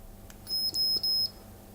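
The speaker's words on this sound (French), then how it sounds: "là, vous voyez 2 bips" Short, clean electronic beeps from a Xiaomi Leravan massager changing modes: a quick pair followed by a longer tone, close and clear against quiet room noise.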